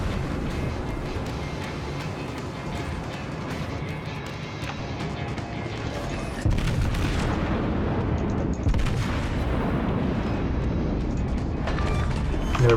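Naval gun salvos boom from warships in the World of Warships game, a dense run of heavy firing with rumbling impacts that swells louder midway, close and continuous, with no talking over it.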